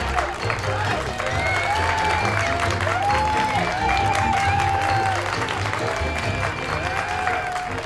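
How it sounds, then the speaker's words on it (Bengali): An audience applauds, used as a sound effect in a Bengali ghost story, with a steady wash of clapping. Several rising and falling whistles cut through the clapping throughout. "সবাই কেমন যেন হাততালি দিয়ে উঠল, কেউ কেউ সিটিও মারল।"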